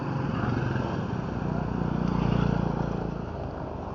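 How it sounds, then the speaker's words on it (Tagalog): A Suzuki motorcycle with a loud aftermarket exhaust drones loudly and steadily nearby on a national road, swelling slightly in the middle before easing off, with no talking. "may ingay ang tambutso"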